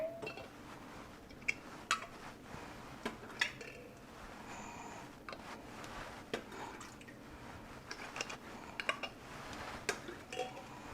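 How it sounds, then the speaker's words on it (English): Faint clinks and taps of metal lids being set onto hot jars of home-canned pepper relish, a few scattered knocks against glass over a quiet kitchen background. "Now we're going to put our lids on."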